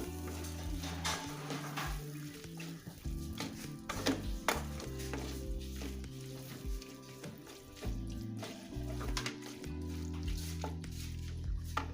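Beef boti fry stirred in a pan, with a continuous sizzle and frequent scraping and clanking of the spatula against the metal, close and moderately loud.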